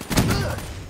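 Frag grenade exploding in a Black Ops III hardpoint match, a single heavy boom with a low thud that rings and decays over about a second.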